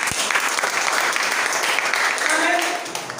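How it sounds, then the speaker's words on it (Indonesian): Church congregation applauding at a sermon, a steady dense patter of many hands that fills the space and eases slightly at the end, with voices faintly mixed in. "Tepuk tangan Tuhan Yesus."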